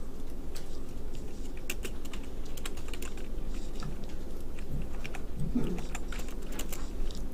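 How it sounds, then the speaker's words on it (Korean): Keystrokes on a computer keyboard while drafting a milling practical drawing in CAD software, a scattered run of light clicks over a steady background hum, with no one speaking. "B 엔터 한번 쳐보세요."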